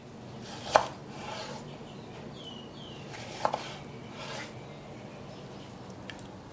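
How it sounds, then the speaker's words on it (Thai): A knife slices bananas on a board, with two sharper cuts and quieter slicing between them. "ทีนี้ก็ให้เราหั่นกล้วยครับหนึ่งลูกหั่นได้สามชิ้น"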